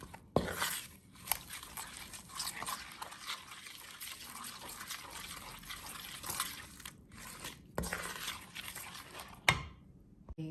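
Chicken wings are tossed by hand in a bowl with a soy sauce, tomato ketchup and chili marinade, making soft, wet squelches and sticky clicks in an irregular rhythm. The sound is close but quiet, with no talking.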